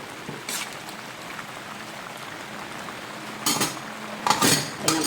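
A spoon stirs ginataang papaya and banana heart in a pot, giving a few clinking, scraping strokes against the metal, closest and loudest near the end, over a faint background hiss.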